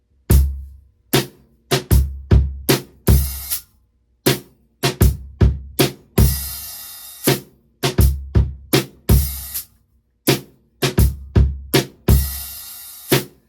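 A drum kit plays the opening two-bar phrase of a song slowly, with sharp kick and snare hits in a repeating pattern, bursts of open hi-hat and cymbal wash, and no other sound.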